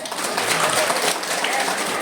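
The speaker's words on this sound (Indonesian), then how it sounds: "Tepuk tangan." Scattered audience clapping at a village tumpeng contest awards announcement, a steady broadband patter lasting a couple of seconds with some crowd murmur mixed in.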